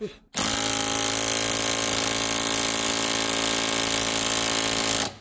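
DeWalt half-inch impact wrench hammering on a rusted stabilizer link of a 2006 Nissan X-Trail, a loud, close, continuous rattling buzz starting abruptly after a brief pause and running steadily to a sudden stop.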